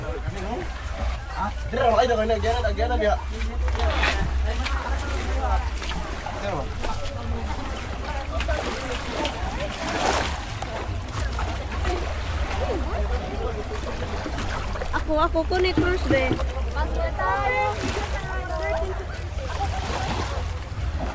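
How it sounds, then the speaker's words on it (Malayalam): A small private tour boat on the sea at Alona Beach in the Philippines gives a low rumble beneath almost continuous talk, with occasional splashing water. "ഇതാണ് ഞാൻ ആദ്യം പറഞ്ഞ ബോട്ട് ഇങ്ങനത്തെ പ്രൈവറ്റ് ബോട്ടിൽ നിങ്ങൾക്ക് അവർ ഈ ചെറിയ ടൂർ തരും"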